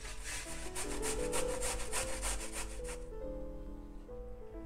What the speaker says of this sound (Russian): Одну морковь среднего размера потру на средней или на мелкой терке.